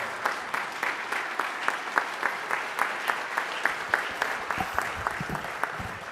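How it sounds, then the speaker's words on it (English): Applause from a banquet crowd honoring award sponsors, steady dense clapping with sharp individual claps standing out, sustained for several seconds at moderate loudness. "Give them a round of applause."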